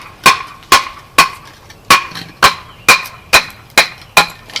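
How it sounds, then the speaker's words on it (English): A Schrade SCHF26 knife is batoned through a firewood log, about ten sharp, evenly spaced wooden knocks, close and loud, each dying away quickly with a faint ringing edge. "So I think this is a better size log to baton"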